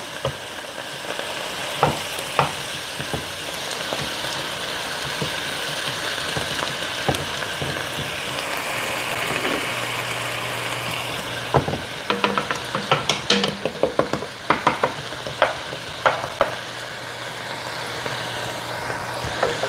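Onions fry in a pan for chili con carne, a continuous close sizzle that runs throughout, joined in the second half by frequent clattering taps and scrapes of a utensil stirring, with no voices.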